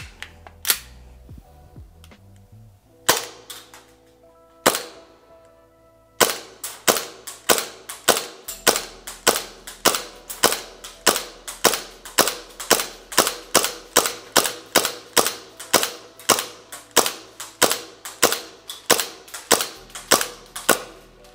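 An ICS Hi-Capa Legacy airsoft pistol fires at a target 20 m away on a shooting range, using 0.25 g BBs at 110 PSI. A few scattered sharp cracks come first, then a long, steady run of evenly spaced, snappy shots, each followed by a quick decay.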